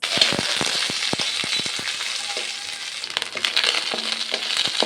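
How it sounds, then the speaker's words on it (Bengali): Pakal fish coated in salt and turmeric fries in hot oil, a steady close sizzle with crackles and the sharp knocks of a utensil turning the pieces. "নুন হলুদ মাখিয়ে পাকাল মাছটাকে ভেজে নিলাম।"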